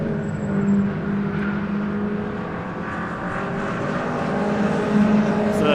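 MG ZR race cars roar steadily around Donington Park, a loud continuous engine drone with layered harmonic whine and no pauses.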